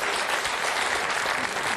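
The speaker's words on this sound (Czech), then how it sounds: "ta vaše víra v publikum si zaslouží potlesk" Studio audience on a Czech Who Wants to Be a Millionaire game show breaks into a short, dense burst of steady clapping.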